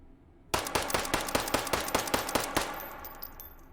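Ruger Mark IV pistol fitted with a compensator fires in H3VR, a rapid string of about ten sharp, evenly spaced shots over two seconds, close and loud, with a short ringing tail after.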